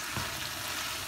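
Cluster beans frying in a pan, a steady close hiss of sizzling oil with a faint stirring scrape near the start, no voices.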